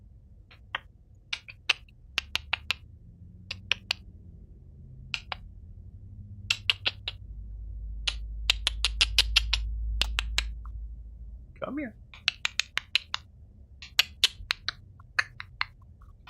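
Sharp mouth clicks made by a person imitating dolphins, many isolated clicks at irregular spacing over a low rumble and murmur of a street gathering, with a brief spoken call in between.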